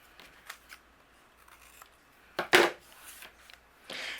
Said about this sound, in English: we're going to trim away with scissors